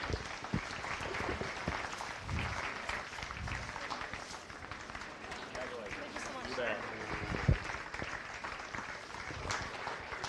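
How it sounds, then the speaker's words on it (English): Crowd applause for market steer exhibitors at a county fair beef show, a broad wash of clapping in a large space with a voice talking over it. "Let's go ahead and give our market steer exhibitors a round of applause"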